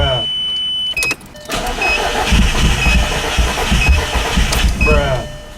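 Turbocharged VW Jetta with a GT28R turbo cranking without firing: a starter chime and click, then several seconds of loud, rapid rhythmic cranking that stops abruptly, heard from up close inside the car.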